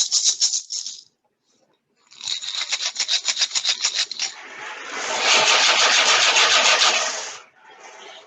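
Three shaker instruments are shaken one after another: a short bright rattle, then a longer rhythmic series of shakes, then a sustained dense rattling swish, each close and clear with brief gaps between.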